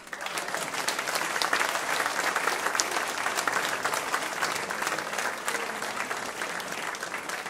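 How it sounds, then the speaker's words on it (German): Dense, steady audience applause at a Schlager concert, a loud continuous wash of many hands clapping that fills the room without letting up. "Schon mal einen kleinen Applaus als Aufstehen."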